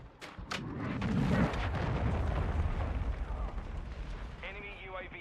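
A cruise missile blast in Call of Duty: Modern Warfare II: a loud, sustained rumbling explosion with crackling debris fills most of the stretch, easing slightly toward the end as faint electronic game tones appear.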